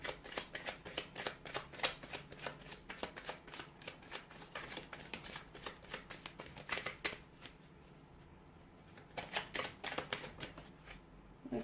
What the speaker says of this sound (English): I'll go ahead and give the cards a shuffle